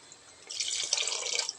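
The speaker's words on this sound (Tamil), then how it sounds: "அந்த தண்ணி அப்படியே ஊற்றிடு" Water is poured into a pot of spicy mutton curry cooking in a pressure cooker, starting after a quiet moment as a close, bright splashing stream that runs steadily to the end.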